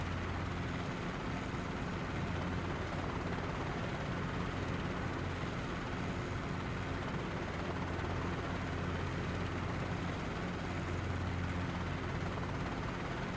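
A helicopter flies in a video game, its rotor and engine droning in a steady, loud, unbroken drone with no talking.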